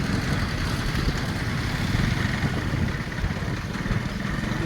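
A borrowed motorcycle ridden through a village gives a steady, loud engine drone with a rough low rumble that holds nearly even throughout, with no talk over it.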